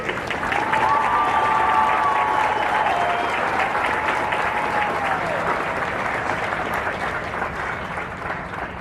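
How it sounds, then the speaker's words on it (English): Audience at a Marine Corps recruit graduation ceremony for Kilo Company at MCRD San Diego gives the company staff a long, dense round of applause, steady and loud throughout, with a faint voice early on. "Ladies and gentlemen, please join me in a round of applause for the company staff of Company K."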